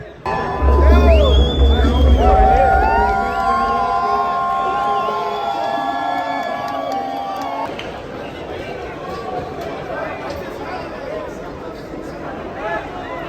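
A sports crowd in Corpus Christi, Texas, bursts into loud cheering and shouting with children's voices mixed in, then settles into busy chatter and murmuring, with whistles and talk layered over the noise.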